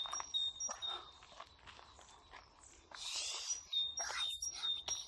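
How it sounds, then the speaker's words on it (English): Birds sing in woodland during a nature walk, with high chirps and short whistled phrases, some close and some farther off, mixed with footsteps crunching on the path and a few soft rustles. "Oh, the bird sounds really nice."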